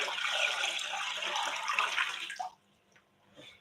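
Water pours steadily into an aquarium quarantine tank for a pygmy corydoras setup, a close, rushing splash that stops abruptly, leaving quiet with faint drips.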